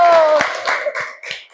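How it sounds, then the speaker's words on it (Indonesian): Brief bursts of hand clapping for a classroom group presentation, a few sharp claps spread over a second and a half with a voice heard at the start. "Tepuk tangan untuk kelompok 1."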